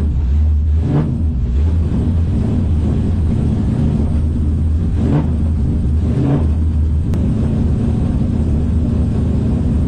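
A supercharged V8 in a Nissan 200SX at a drift event gives a deep, loud, continuous rumble close by, with a few brief swells as the engine is revved.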